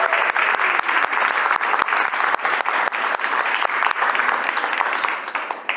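Steady, loud applause from an audience fills a closing ceremony honoring a first graduating teacher academy class, continuous clapping close by that fades slightly at the end.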